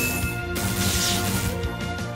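In Pokemon Let's Go Pikachu, the Thunder Wave move plays as a dense, loud crackling electric effect with a crashing burst, mixed with game music throughout.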